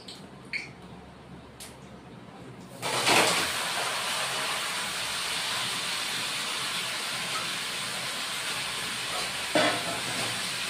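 Shredded cabbage drops into a hot pan with oil and a bay leaf for a vegetarian cabbage dish, setting off a loud, steady sizzle and hiss after a few quiet moments of light clinks, with a brief stirring scrape later.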